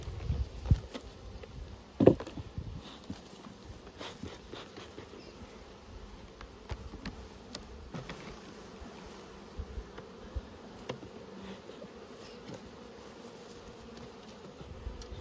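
Honey bees buzz steadily around an opened nucleus hive's brood box during inspection, a soft continuous hum with occasional faint knocks and handling sounds, no talking.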